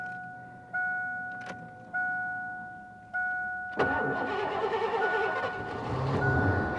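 The warning buzzer of an old Ford LTD Crown Victoria chimes in three short, evenly spaced bursts, then the engine cranks and catches into a rough, rumbling run close by.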